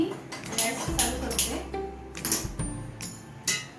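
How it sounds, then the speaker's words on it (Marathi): A metal cooking pot is set onto a gas stove while a mango raita is being made, giving several sharp metallic clanks and knocks close by against quiet kitchen background. "गॅसवर मी आता टोप ठेवला आहे आपला"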